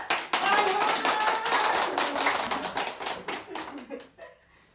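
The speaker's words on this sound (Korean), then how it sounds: "큰 박수로 시작하겠습니다" An audience at a senior citizens' center claps in a small room. Close, brisk hand claps come in a dense run that thins out and stops after about four seconds.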